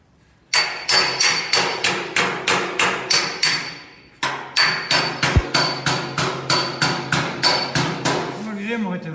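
Hammer and dolly on a thin sheet metal car fender, a fast regular series of ringing metallic taps, loud and close, pausing briefly before resuming at the same steady rhythm.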